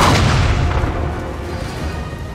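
Napoleonic cannon artillery fire in the Total War: Napoleon video game: a heavy, close boom that rolls off into a long, rumbling decay with no talk.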